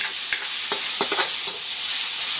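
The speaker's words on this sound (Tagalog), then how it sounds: "Inuuna ko yung pork para ma-toast ng konti" Pork toasting in a pan for ginataang kamansi, a steady close sizzle with a few sharp utensil scrapes and taps scattered over the hiss.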